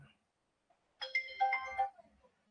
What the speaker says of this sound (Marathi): श्रद्धा काय कॉल करायला लागली? श्रद्धा इथंच बोल की, फोन बंद कर